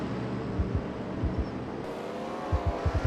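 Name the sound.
race cars driving on track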